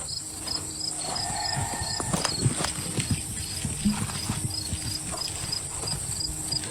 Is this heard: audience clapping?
no